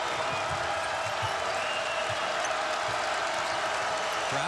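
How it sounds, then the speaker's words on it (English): Arena crowd at a Purdue–Iowa college basketball game rising and cheering in a steady, dense roar that holds throughout, with faint ball bounces and scattered claps under it. "Crowd coming to its feet."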